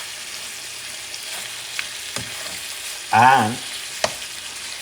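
Korean short ribs (galbi) cooking in a pan give off a quiet sizzle with a few sharp clicks of tongs or utensils, and a brief spoken word is heard partway through.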